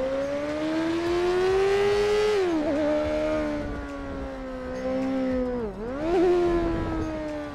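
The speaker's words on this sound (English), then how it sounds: "That was a McLaren passing under us." A McLaren supercar in GTA 5 passes close by, its loud engine revving with rising and falling pitch sweeps as it drives past, continuous and prominent with no talk.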